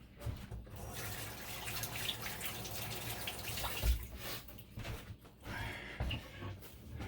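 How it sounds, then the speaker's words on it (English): Tap water runs steadily into a sink while hands are washed in a home kitchen during rib preparation, a continuous soft splashing hiss at moderate distance with small fluctuations and no talk. "Let me wash my hands again a minute."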